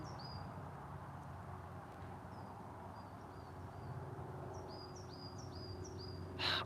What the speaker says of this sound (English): I've missed those sounds. I miss the birds.